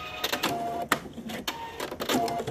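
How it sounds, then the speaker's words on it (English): A sewing machine running a stitch on fabric gives short mechanical whirring bursts separated by brief pauses, close and fairly quiet, with no voices. "the machine does the stitching for you"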